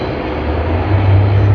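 A Jetstar airliner at Sydney Airport on its departure roll, a loud steady engine roar with a deep low rumble that builds slightly toward the end, no voices.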